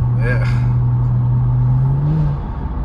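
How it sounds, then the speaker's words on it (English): A Kia Stinger GT turbo engine fitted with aftermarket intakes holds a loud, steady droning note, rising slightly near the end before easing off, with people talking over it. "I've never been in a turbo car where you throw an intake on, well, intakes, and it's that loud"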